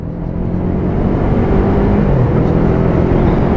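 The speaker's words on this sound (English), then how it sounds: "Just bringing the speed up again. Let's give her a little bit of a higher run this time." A Yamaha MT-03 motorcycle accelerates on a test ride, a loud, steady engine drone with rising pitch under heavy rushing wind noise, recorded close on the bike.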